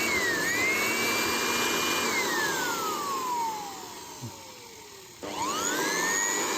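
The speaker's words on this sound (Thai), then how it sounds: "อันนี้คือเครื่องเป่าลมนะครับ เครื่องเป่าลมมันจะอยู่ที่ แปดร้อยวัตต์นะครับ" An 800 W electric air blower running through a dimmer whines loudly, its motor pitch sliding downward as the power drops, then briefly cutting out before spinning back up with a rising whine.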